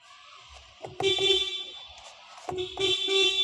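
A car horn honks twice during a technician's steering and horn function check, each a short blaring toot about a second and a half apart, fairly close with no speech.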